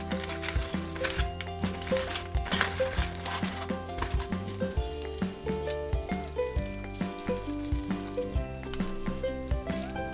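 Food sizzles steadily in a hot pan, with soft stirring and scraping clatter over a continuous frying hiss; no talking.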